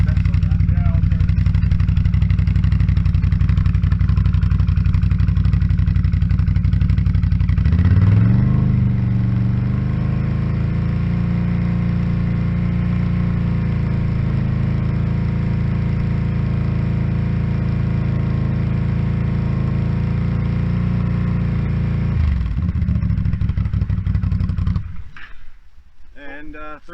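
An engine fitted with an MBRP or RJWC aftermarket exhaust rises from idle to a steady 3,500 RPM hold, droning loud and close for about fifteen seconds before dropping back to idle.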